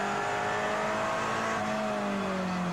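From onboard a Ginetta race car, the engine gives a loud, continuous drone that stays close, its pitch shifting slightly as the car drives through a corner and down the track.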